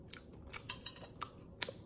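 Bites into crunchy thin-crust frozen Milwaukee-style pepperoni pizza, home-baked, give several sharp, close crackling crunches spaced irregularly over a couple of seconds.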